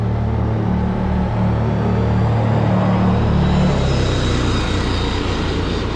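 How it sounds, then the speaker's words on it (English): A noisy quad bike pickup truck passes close by on the Protaras strip in Cyprus, a loud continuous engine rumble and drone that swells and then fades slightly, with no talking. "And that very noisy pickup truck thing."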